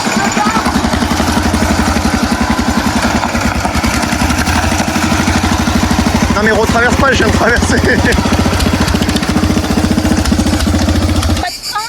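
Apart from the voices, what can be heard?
modified ride-on lawn mower tractor engine running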